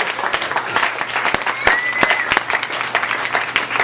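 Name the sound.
audience applause at cafe show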